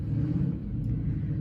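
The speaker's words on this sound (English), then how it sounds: "That would be my sweet husband's car that he is starting outside the window of our apartment." A car engine starting and idling outside an apartment window, a continuous low rumbling drone heard through the wall at moderate level, without voices.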